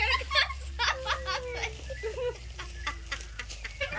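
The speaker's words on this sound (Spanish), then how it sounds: "Ahí están las gallinas de Guinea." Guinea fowl cackle and cluck in quick, chattering bursts nearby, several birds calling over one another against a low background hum.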